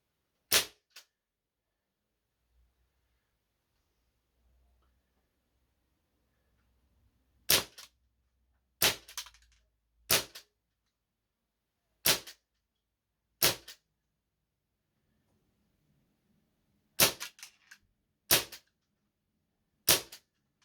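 Sharp snapping shots from an ASG MK1 Tactical Sniper airsoft rifle at a range test, ten crisp reports in uneven bursts, several close pairs, loud and near with silence between.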